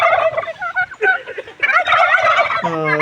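Adult Bengaluru-breed turkeys at a poultry farm gobble loudly and continuously at close range, their rattling calls overlapping with no talk.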